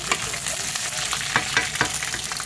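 Garlic peanuts fry in a pan with a continuous loud sizzle and crackle, broken now and then by sharper pops and stirring scrapes, close up and with no voices.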